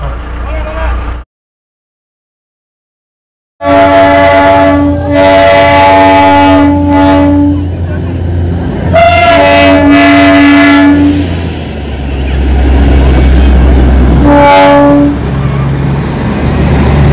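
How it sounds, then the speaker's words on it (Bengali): Darjeeling toy train passing near Ghum station, with loud rumbling and clanking wheels, several repeated horn toots and voices talking nearby; a brief silent gap precedes the close, loud passage. "টয় ট্রেনটা পাস করলো"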